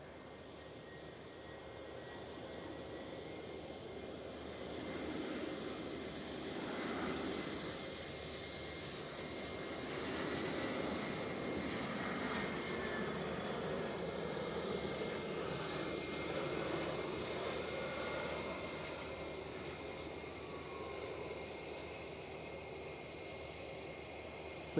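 An easyJet Airbus A319 arriving at Edinburgh airport, a steady broadband jet roar that swells gently and holds, heard from a distance in the open air without speech.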